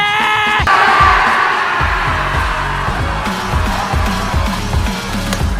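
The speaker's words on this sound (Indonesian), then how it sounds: "Atas kemenangan ini, mereka semua pun berteriak kegirangan." Gang members in a film celebrate a victory, a crowd yelling and whooping together in a loud sustained roar over a pounding rhythmic beat.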